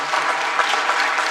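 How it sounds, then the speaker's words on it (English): Round of applause for panelists at a public-private partnership forum session, dense steady clapping from a conference audience, loud and close. "Let's put a round of applause for our panelists."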